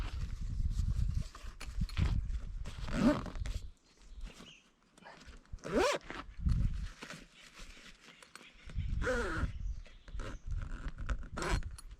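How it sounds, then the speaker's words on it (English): A zipper on an Ironman 4x4 Off-Road ensuite shower tent is pulled shut in a few close, rasping strokes, with fabric rustling and handling noise between them. "And zip."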